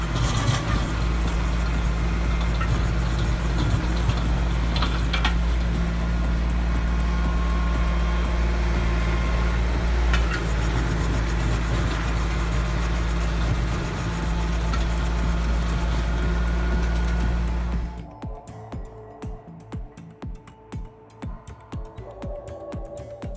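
Tractor-driven stump grinder with a 24-inch wheel and 34 tungsten carbide teeth running loud and steady, a continuous mechanical drone that cuts off near the end, leaving quieter, uneven rattling and knocks.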